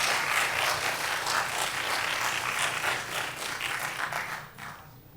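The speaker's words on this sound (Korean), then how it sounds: "정동현 교수님을 향해서 박수 한번 부탁드리겠습니다" An audience at a university department information session claps for a professor in steady, even applause for about five seconds, then the clapping quickly trails off.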